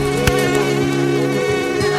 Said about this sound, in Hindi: मच्छर यहाँ पे दावत कर रहे हैं